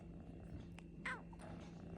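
A Persian cat gives a brief, quiet meow-like call in the middle of low, soft background noise, with a few faint chirps around it and no talk.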